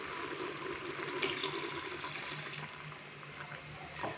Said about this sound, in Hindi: तो अभी हम इसके अंदर 1 कप पानी डालेंगे।